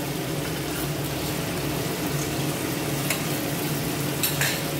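Chopped tomato fries in a pan with a ground mix of ginger, cumin, coriander, chilli and turmeric, making a steady moderate sizzle broken by a few scraping stirs.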